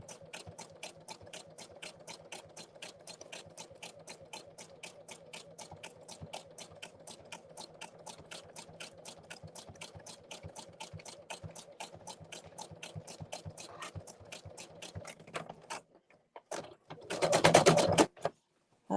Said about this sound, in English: Okay, my sewing machine's making a noise.